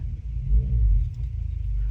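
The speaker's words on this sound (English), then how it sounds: "my husband just arrived home on his motorbike." A motor rumbles and revs in the background, a low steady engine drone that swells briefly as a motorbike pulls in nearby.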